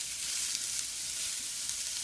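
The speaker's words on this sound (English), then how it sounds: "We're going to add our corn. You hear that sizzle?" Corn kernels dropped into a very hot skillet on a grill sizzle and fry, a steady, soft hiss with faint crackles, close and alone.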